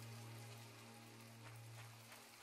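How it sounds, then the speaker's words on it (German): Rain falls in the video game My Time at Portia as a faint, steady patter over a low constant hum, with no voices. "Oh, es regnet."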